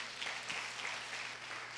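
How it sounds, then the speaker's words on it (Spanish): A church congregation at a Spanish-language family service gives brief, soft applause, a faint wash of clapping that sounds distant and thin in the room. "¿Cuánto le dan un aplauso al Señor?"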